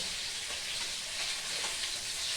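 Boiled potato pieces shallow-frying in hot oil give a steady, dense sizzle and crackle that holds evenly throughout, close and fairly loud with no voices.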